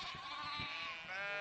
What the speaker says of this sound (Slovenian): Sosed je imel veliko ovc.